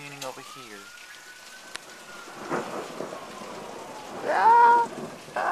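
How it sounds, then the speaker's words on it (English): Rain falling during a thunderstorm in Los Angeles, a soft steady patter beneath scattered tonal sounds and a brief voice near the end. "it's raining over here"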